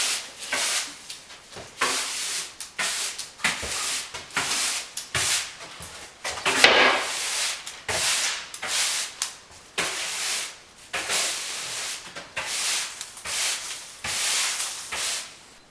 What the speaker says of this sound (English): I will sweep the floor.